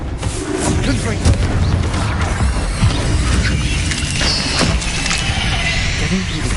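Confringo fire spell blasts in Hogwarts Legacy during a cavern fight, dense continuous booming impacts and crashing effects layered over game combat noise throughout.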